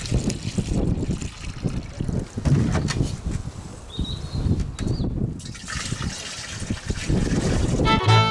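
Moss killer liquid glugs and trickles as six litres are poured into a garden sprayer beside a barn, a steady close gurgle with slight wind noise and a clunk at the end.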